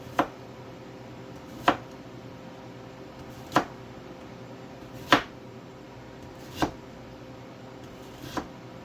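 A knife slicing the ends off radishes on a cutting board: six crisp, isolated chops spaced about one and a half seconds apart, close and clear over a quiet background.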